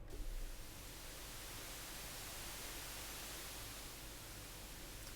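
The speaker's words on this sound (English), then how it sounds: "And we can also introduce a third sound source, which is noise. This is pink noise." Steady pink noise from the oscillator section of an Arturia Prophet V synthesizer, a soft, even hiss held unbroken and alone after a brief low thump at the start.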